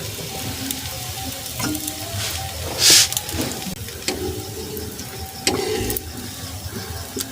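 A potato-stuffed paratha fries in white oil on a hot pan, giving a loud continuous sizzle with crackling spits and one brief hissing burst midway, without talk.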